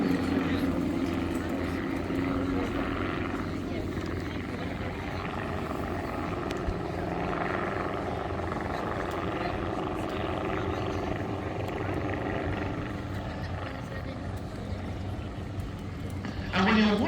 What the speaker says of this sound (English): when you're watching these aeroplanes, just consider they're powered by a 1600cc Volkswagen engine